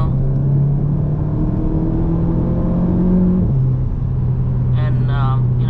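A turbocharged 2017 Volkswagen Golf GTI engine hums and pulls steadily, pitch rising as it accelerates, then shifting gear; a brief chirp-like sound appears near the end.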